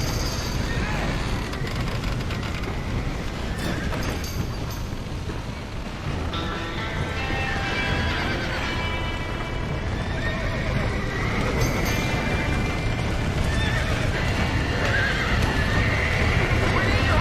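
Horses whinny and neigh amid galloping clip-clop hooves in the open-world western video game Red Dead Redemption, mixed with rumbling game ambience and a voice speaking.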